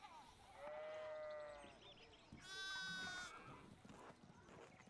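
Several sheep bleat in the medieval village setting of Pentiment, drawn-out wavering calls, two prominent ones rising over a quiet backdrop of faint talk and ambience.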